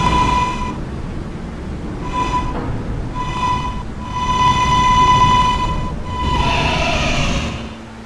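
A K subway train runs between stations with a loud steady rumble, a high metallic squeal rising and falling over it in repeated stretches.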